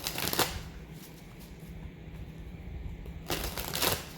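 A tarot card deck being shuffled at close range, with two bursts of riffling at the start and end and a quieter stretch of handling between them, no talking.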